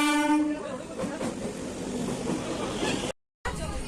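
A passenger train travelling between Bankura and Chandrakona, heard as a steady, loud rumble with a brief horn-like tone at the start. Faint voices sit underneath, and the sound cuts out briefly near the end.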